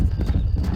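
Galloping horse hooves clip-clop in a steady rhythm while riding through a Red Dead Redemption cattle ranch setting, close and loud, with a brief whinny-like rise.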